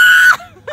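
Loud, sustained high-pitched scream from a person inside a car, lasting under half a second and then trailing off, with a brief burst of voice at the end.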